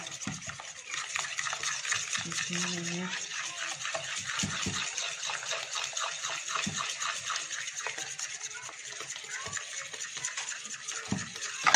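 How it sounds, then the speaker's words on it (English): A whisk beats Yorkshire pudding batter of flour mix in a bowl, giving a quick, steady scraping and tapping rhythm close by that runs continuously with only brief pauses. "make sure you whisk it nicely"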